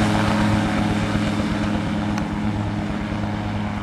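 At the 2012 Gruibingen airfield festival, a small motor pre-rotates a gyrocopter's rotor. It makes a loud, steady droning hum with a constant pitch, heard close and continuously with little change.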